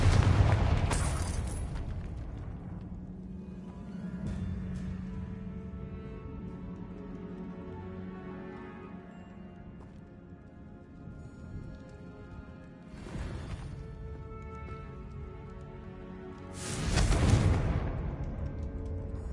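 Confringo spell blasts in Hogwarts Legacy, a deep boom near the start followed by a long rumbling decay, then two more bursts later, the last one loudest, all set against low cavern ambience.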